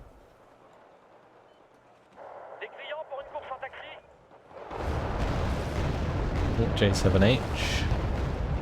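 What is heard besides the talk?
bombing explosions in Wargame: Red Dragon video game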